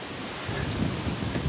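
Wind buffets a microphone outdoors at night during a workout, a low rumbling roar that swells after a moment and stays rough and uneven, with no talking over it.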